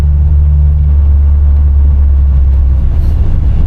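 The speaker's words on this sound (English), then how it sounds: "The little drone that I hear is clearly because the windows are up with the exhaust." A loud, steady low-pitched exhaust drone fills the cabin of a 1981 Corvette with the windows up, a constant engine and exhaust hum heard from inside with no talking.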